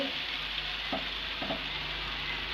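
Food frying in a little oil until crispy, a soft steady sizzle with a couple of faint stirring scrapes, quiet and close, with no one talking.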